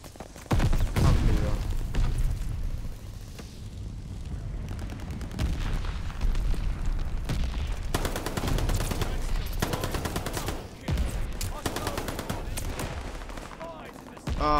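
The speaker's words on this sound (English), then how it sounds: "Allies calling a mortar barrage" Mortar barrage explosions in the video game Call of Duty: Vanguard, a dense run of heavy booms and crackling gunfire rolling on for many seconds, loud and close, with brief lulls.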